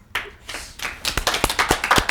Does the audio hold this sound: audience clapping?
yes